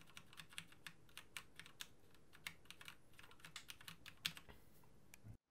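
Typing on a Steelseries Apex M500 gaming keyboard with Cherry MX Red switches, a quick run of soft, muffled keystrokes with an occasional louder tap, close and quiet.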